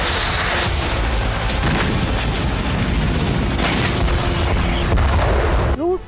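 Explosions and booms from a Ukrainian drone attack on a power station in Yekaterinburg, a loud continuous rumbling barrage filling the whole stretch, ending in a brief sharp burst.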